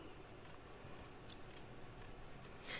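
Scissors trimming the fabric of an in-the-hoop quilt block, a series of quiet crisp snips spaced about half a second apart over a faint room hum, no talk.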